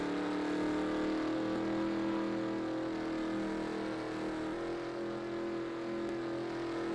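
A race car engine in the Cars video game pulling out of pit lane at Treadwell Motor Speedway, a steady moderate engine drone that holds a constant pitch and eases slightly midway, with no talking.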